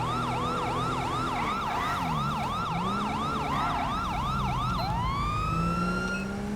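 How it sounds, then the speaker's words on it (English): A police siren in a video game (LSPDFR) wails in a rapid rising-falling yelp, then shifts to a slower sweeping wail near the end, loud and continuous over engine rumble. "I think we're gonna cut our siren off here just so nobody gets alerted."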